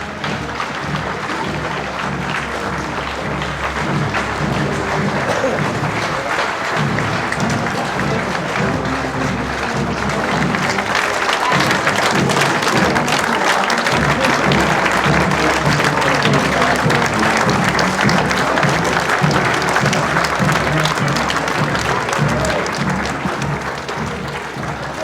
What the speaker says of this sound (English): cheering crowd lined the narrow streets all the way to the Norwich Cathedral